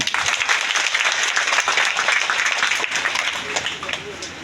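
Loud, dense applause from a ceremony audience honouring an MP, continuous clapping from many people that tapers slightly toward the end, with some voices mixed in.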